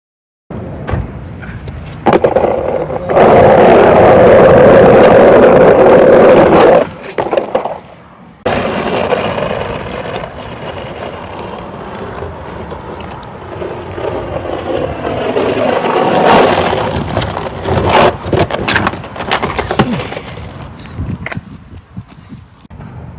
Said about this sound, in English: I could even ride and slide on these wheels on an extremely rough and extremely rocky ground with zero flat spots